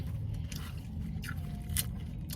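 Crunchy bites into crispy fried chicken, a few sharp crackling crunches close up, with quiet chewing between them.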